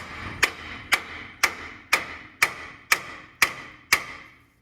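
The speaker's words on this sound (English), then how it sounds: "So the first thing I like to do is I'll hit directly on top here." A hammer strikes the top of a tapered ball joint assembly on a 6.0 Powerstroke truck front end during teardown: eight sharp, evenly spaced metallic blows about half a second apart, close and loud with short ringing decays.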